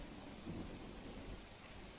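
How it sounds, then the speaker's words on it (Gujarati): Heavy monsoon downpour pounding Borsad in Anand, Gujarat, a steady dense roar of rain with low rumbling underneath, constant and loud throughout. "ભારે વરસાદ વડોદરાથી લઈને નવસારી વાપી સુધી વરસી રહ્યો છે"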